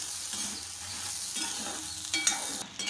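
Red chillies and salt dry roasting in a pan, giving a steady crackling sizzle with scraping stirs and a few sharper clinks, close and continuous.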